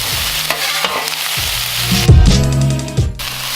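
Bell peppers sizzle and crackle on a hot Blackstone griddle while a spatula stirs and scrapes, with a louder burst of hissing partway through.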